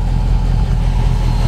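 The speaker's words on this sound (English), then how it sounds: "So we've got the MagnaFlow dual exhaust" A 2007 Dodge Charger R/T engine idles steadily through a MagnaFlow dual exhaust with a deep, throaty low rumble, loud and close, with no talking.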